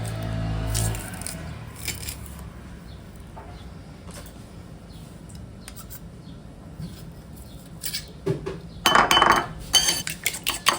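A lemon juice, garlic, honey and mustard dressing is whisked in a bowl, with light clinking and scraping taps that start quiet and sparse, then grow into a quick, busier burst of metal-on-dish clatter near the end.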